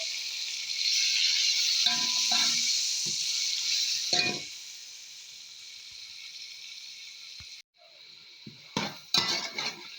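Tomatoes and green chilies sizzle in a pot of oil while cooking for a mixed vegetable chicken biryani, a steady hiss broken by clinks and scrapes of a utensil against the pot.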